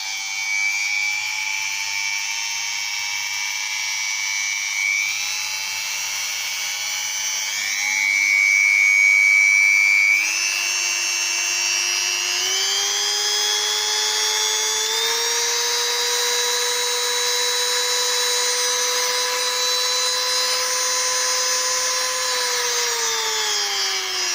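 Electric drill running alone at close range, starting at its lowest speed and stepping up in pitch several times as the speed is raised, with a steady high whine throughout.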